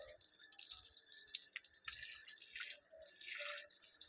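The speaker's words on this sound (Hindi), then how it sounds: "पहले दाहिना पैर धोना है, फिर उल्टा पैर धोना है" Running tap water splashing steadily while feet are washed during wudu, a continuous close stream with small shifts as the water hits skin.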